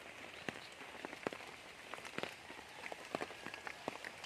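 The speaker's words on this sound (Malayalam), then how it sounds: "നല്ല രാത്രി നല്ല അടിപൊളി മഴയാണ്." Heavy rain falls at night as a steady, soft hiss, with scattered sharper drops and drips tapping close by. No one speaks.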